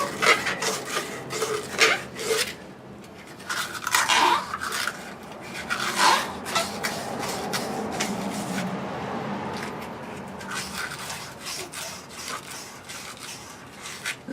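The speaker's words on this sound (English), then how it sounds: "the sandpaper is just to get the dirt and grime and stuff" Sandpaper scrubs dirt and grime off a sprinkler pipe in close, quick rasping strokes, bursts of scratchy rubbing with short pauses, then a steadier softer scrape.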